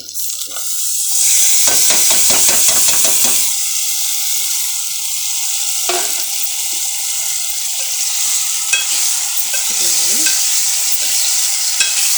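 Fish frying in a pan, a loud steady hiss of hot oil that runs throughout, with a burst of rapid rhythmic stirring early on and a few scrapes later, close, no talking.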